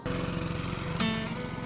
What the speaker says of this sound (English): You gonna mow the lawn or what?